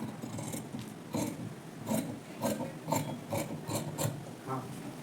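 Scissors cut through fabric to shape a garment's front neckline, a series of crisp rhythmic snips and rasping strokes, close and fairly quiet, with no talk.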